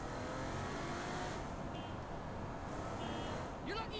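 A car driven in the video game Saints Row IV, its steady engine drone running continuously under voices talking, with a brief rising rev near the end.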